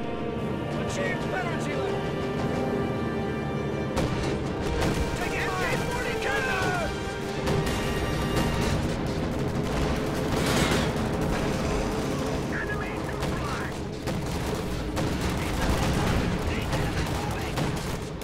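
Gunfire and explosive blasts crackle through a World War II strategy game battle as paratroopers are engaged in the north, dense and continuous with a commentator talking over the fighting.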